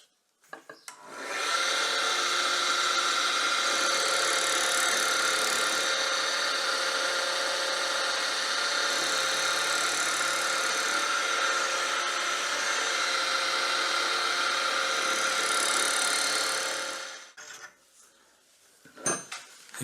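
A power tool nibbles away the leftover stalk on a wooden ball held in a ball turning jig, a loud steady whirring drone running unbroken for about fifteen seconds before winding down, followed by a few faint knocks.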